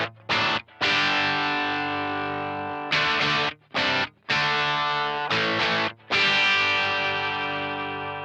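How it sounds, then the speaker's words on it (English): Electric guitar through an old pedal with the distortion switched off: ringing, harmonically rich strummed chords in separate bursts with brief gaps between them, loud and close, no talking. "This is with the distortion off completely."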